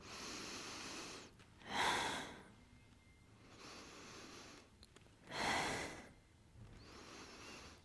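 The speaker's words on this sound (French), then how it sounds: "J'expire pour maintenir le bassin, j'inspire, je repose." Paced breathing during a Pilates core exercise: long steady airy exhalations alternate with two sharp, louder inhaling gasps, close and rhythmic with no talk.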